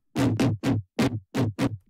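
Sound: Serum synthesizer bass sound remaking Valentino Khan Deep Down Low drop

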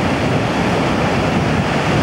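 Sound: breaking waves and white water while windsurfing

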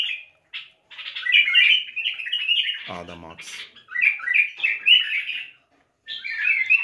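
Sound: pet cage bird singing and chirping

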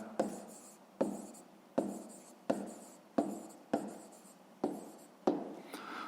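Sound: writing by hand

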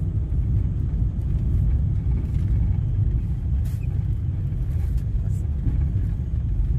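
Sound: heavy street traffic, many cars in Kuwait

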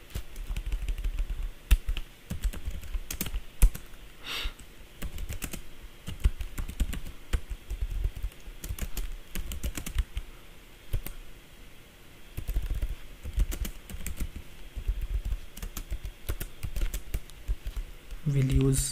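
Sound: typing code on a computer keyboard

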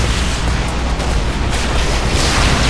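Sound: explosion in the video game Halo Reach

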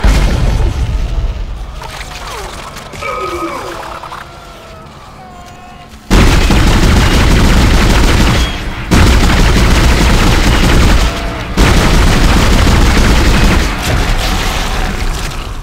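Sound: rockets being fired in the video game Dead Space

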